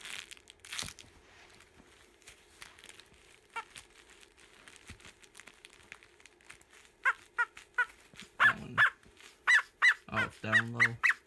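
A dog crunches and crinkles at something it has been given, with rustling and a few short, louder sounds near the end that may be barks or voices.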